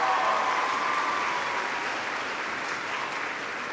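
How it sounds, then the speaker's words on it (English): At a school assembly, a large audience applauds teachers, the principal and administrators, producing a steady, dense wash of clapping that holds for nearly four seconds and eases off gently toward the end. "Please give a round of applause to all of your teachers, your principal, your administrators for all of their hard work."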